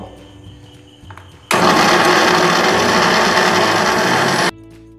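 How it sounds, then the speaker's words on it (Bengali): Soaked soybeans are ground into a paste in an electric blender, a loud, harsh whirring roar that starts abruptly, runs steadily for about three seconds and then cuts off, with quieter room sound before and after. "এবার আমি এটা ব্লেন্ড করে নেব।"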